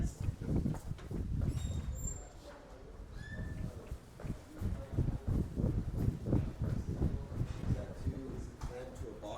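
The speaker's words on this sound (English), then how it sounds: "thank you, they're clapping for me" Students clapping in a classroom: a run of rapid, uneven hand claps that builds and continues for several seconds, with a voice talking over it.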